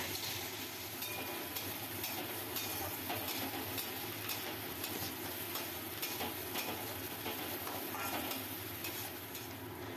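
Garlic and small chillies sizzle in oil in a pan for a Bengali Loitta fish jhuri, a steady, close crackling fry with occasional stirring scrapes and no talk.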